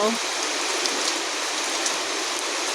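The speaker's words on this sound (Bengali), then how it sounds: "অবশেষে বৃষ্টি শুরু হয়ে গেল" Steady rain falls continuously, a dense even hiss of drops close by with no break throughout.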